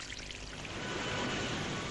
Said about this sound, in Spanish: a medida que se vierte el agua del manantial en este precipicio